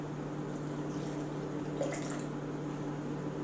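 Warm water runs steadily from a kitchen tap as a smooth, continuous hiss, with a faint splash or drip partway through and no talking.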